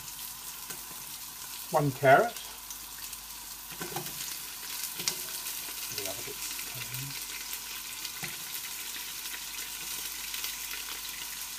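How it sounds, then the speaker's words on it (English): Carrot and onion fry in oil in a stockpot for beef stock, a steady low sizzle with a few loud clattering bursts as vegetables are added and stirred, and a voice speaking briefly. "Let that sizzle up."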